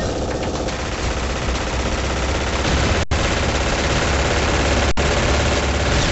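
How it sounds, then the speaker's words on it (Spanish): Sustained rapid gunfire aimed at the player in a shooter video game, a dense continuous barrage of automatic shots with engine rumble beneath, loud and unbroken apart from two brief cuts. "No, me están disparando."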